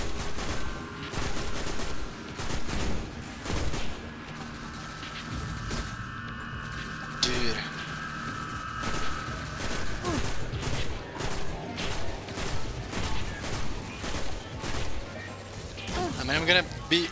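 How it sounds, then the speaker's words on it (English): Gunfire in the video game Destiny on PS4: sustained bursts of rapid shots and crashing impacts, loud and dense throughout, with a player's voice speaking over the barrage. "All day shooting at them here."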